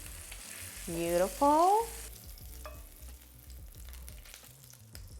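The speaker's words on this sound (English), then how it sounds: "sear the sausage for a beautiful color. I'm using andouille, Cajun andouille sausage" Cajun andouille sausage searing in a skillet, with a steady close sizzle and crackle under a short spoken word, along with a bright tonal squeak or clatter early on before the frying continues alone.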